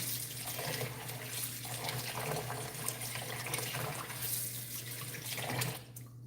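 Tap water runs steadily into a sink while rice is washed for fried rice, a continuous splashing flow at close range that cuts off near the end.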